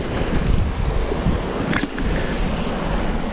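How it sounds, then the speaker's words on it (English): Strong coastal wind gusting against the microphone on a shoreline fishing spot, a loud continuous buffeting roar with surf-like rushing and no speech. "Now I apologise about the wind noise because the wind's howling across here."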